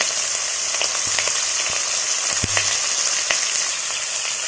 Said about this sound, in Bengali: তেলটা আমাদের গরম হয়ে গেছে এবার আমরা এর মধ্যে দিয়ে দিচ্ছি চিংড়ি মাছগুলো ভাজা করতে